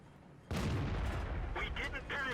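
A tank gun fires in the World of Tanks video game. One loud, close boom cuts in abruptly and rolls on under an announcer's voice.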